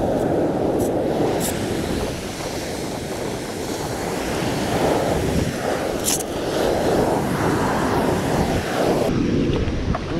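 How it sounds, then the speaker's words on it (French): Waves roll and crash continuously, loud and close, with gusting wind buffeting the microphone throughout. "Regarde les vagues"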